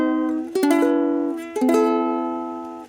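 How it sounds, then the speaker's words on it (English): An out-of-tune ukulele is strummed twice. Each loud chord rings on and slowly fades, with no other sound. "In this case, the strings are very out of tune"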